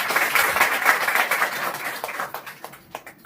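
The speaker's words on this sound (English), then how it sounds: "please, give a big round of applause for him" Audience applause at a motivational talk, a full burst of many hands clapping that holds for about two seconds, then thins into a few scattered, separate claps that trail away.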